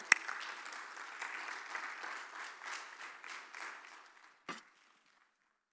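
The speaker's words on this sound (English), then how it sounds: "Please welcome him with a big round of applause." Conference audience at a healthcare forum in Dubai applauds to welcome a speaker, a steady wash of clapping from many hands that thins and fades, ending with one sharp louder clap near the close.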